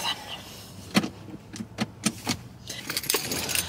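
Car keys jangle and clink close by in several short bursts, with light handling noise and a faint car background.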